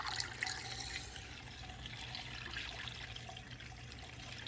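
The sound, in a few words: 50-50 coolant mix poured through a funnel into BMW E39 M5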